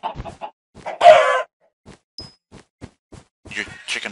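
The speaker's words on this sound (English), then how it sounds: "Come here, chickens." Chickens cluck in the video game Minecraft, short stacked clucks and squawks arriving in quick bursts with gaps between them, close and fairly loud, with no talking.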